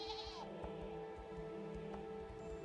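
A goat bleats in the Unicorn Overlord video game, a couple of short wavering calls over a steady game music bed.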